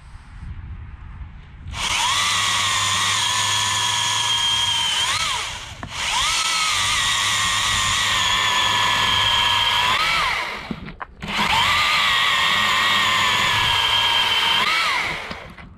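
A Milwaukee cordless electric pole saw runs in three long bursts of several seconds each, giving a loud, steady motor whine close by, with brief pauses between bursts and no talk.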